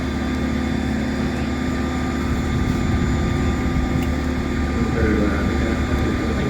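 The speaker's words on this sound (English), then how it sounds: "there is the Boeing 767" A US Air Force Boeing 767 tanker passing over an airshow at RIAT 2024: a loud, steady roaring engine wash with a constant hum, filling the whole stretch without breaks.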